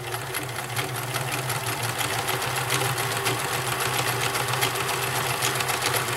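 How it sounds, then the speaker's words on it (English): Vintage Nelco convertible free-arm sewing machine, fully mechanical, running steadily at close range with a continuous motor whir and a light rattle from the thread spool spinning on the back; no talking. "The rattling you hear is the spool of thread spinning on the back"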